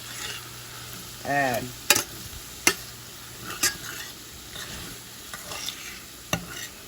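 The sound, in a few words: flour frying in hamburger grease, stirred for gravy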